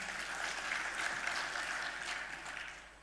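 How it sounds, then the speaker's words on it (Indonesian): Audience applause fills a hall after a football federation speech, a steady wash of clapping that stays faint and distant before tapering off. "Tepuk tangan buat kita semua."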